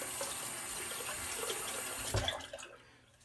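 Water runs from a tap for a rinse after shaving, a soft steady splashing stream that is quiet and close, then tapers off as the flow stops.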